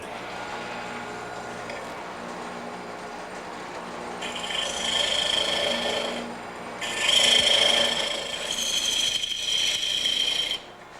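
Rasping sandpaper scrubs across wood in a few sustained back-and-forth bursts, close and fairly loud, over a quiet room hum.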